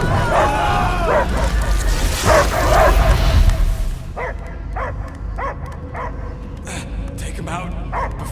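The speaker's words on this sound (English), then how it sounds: "I hear only barking." Dogs barking in the Guardians of the Galaxy video game, a run of short, sharp yips and barks after a loud stretch of mixed game noise, fairly close and distinct.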